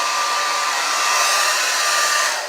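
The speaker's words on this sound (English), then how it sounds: "I really haven't been using this handheld dryer like I said I was, but I did start using it" Handheld hair dryer fitted with a diffuser comb, drying transitioning hair, blows a steady, close, loud airy whoosh that holds even throughout and eases off slightly at the very end, with no talking.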